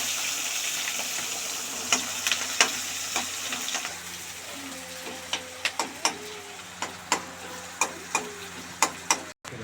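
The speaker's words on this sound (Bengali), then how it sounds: "এই যে পেঁয়াজ ক্যাপসিকাম দেওয়া হয়ে গেছে তেলের মধ্যে।" Onion and capsicum fry in hot oil with a steady low sizzle, broken by a regular series of sharp spatters and pops toward the end; no voices.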